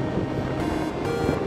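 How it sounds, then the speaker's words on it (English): Strong wind buffets the microphone outdoors near a cliff, a loud continuous rushing roar with no other sounds. "It's very windy out here."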